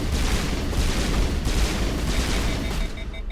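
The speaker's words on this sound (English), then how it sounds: "Let me shoot my guns" In the video game Mass Effect (Legendary Edition), the player's guns fire in a loud, dense, continuous barrage with booming low-end blasts that trail off at the end.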